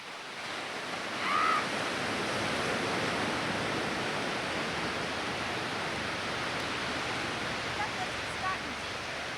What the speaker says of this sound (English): This is the fresh water entering into the ocean.